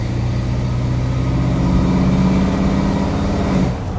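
A 1968 Ford Ranger pickup engine drones steadily while driving, a loud low rumble from inside the cab that drops off abruptly near the end.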